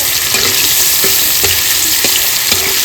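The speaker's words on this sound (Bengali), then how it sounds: "ছোটো ছোটো করে অল্প অল্প করে ভেজে নেবো পনিরগুলো" Small paneer cubes fry in hot oil in a pan with a loud, constant sizzle, while a utensil scrapes and stirs them in regular strokes about every half second.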